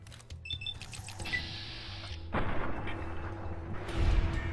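Gunfire rings out in a hardcore modded Fallout: New Vegas run deep underground: a few sharp gunshots and blasts in quick succession with metallic clatter between them, loud and close, no voices over them.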